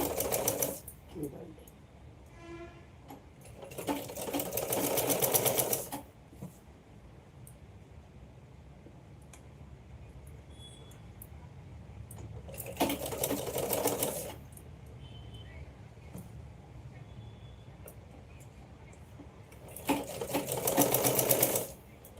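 A sewing machine stitches a shoulder seam in three loud, close bursts of rapid whirring and clattering, with quieter gaps between them where someone talks.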